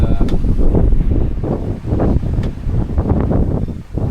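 Steady wind roars across an open microphone at sea, with rushing gusts and buffeting that rise and fall, loud and constant throughout.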